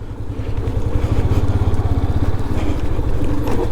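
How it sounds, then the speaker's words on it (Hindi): A motorcycle engine thrums close and loud in a steady pulsing throb as the bike rolls slowly over an icy, unpaved mountain road near a glacier, with no talk over it. "ये देखिए आइस रोड पे फिसल रही है बाइक थोड़ी थोड़ी यहाँ पर।"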